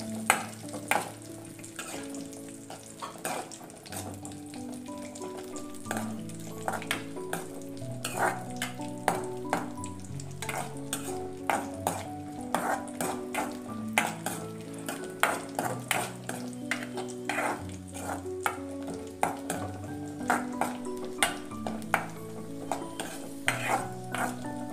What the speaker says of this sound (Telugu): కొద్దిగా డ్రై గ్రేప్స్ వేసి ఫ్రై చేసుకోండి.